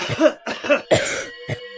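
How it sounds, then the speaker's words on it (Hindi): Four short, harsh coughs in quick succession, close and fairly loud, with a brief pause before the last one. "कुछ दिन लोगों को काफी खांसी जुकाम होता है"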